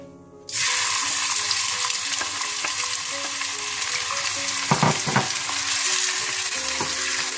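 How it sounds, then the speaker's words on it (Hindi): Onions dropped into hot oil burst into a loud, close, continuous sizzle after a brief quiet start, with a few clattering stirs partway through; no talking. "सबसे पहले आप तेल गरम कर लें। इसमें आप प्याज डाल दें।"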